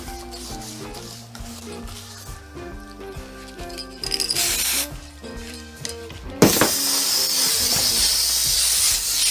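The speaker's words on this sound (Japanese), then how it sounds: "ノズルから落ちちゃったもんだからガスが一気に放出され" Gas bursting from a dropped car spray can of acrylic lacquer clear after its nozzle came off, a loud sudden hiss that starts partway through over background music and continues steadily to the end.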